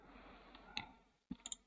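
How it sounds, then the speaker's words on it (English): A key pressed on a computer keyboard during CAD modelling work: a few soft, quiet clicks, one alone and then a small cluster close together, in a hushed room. "Now press the letter A in the keyboard"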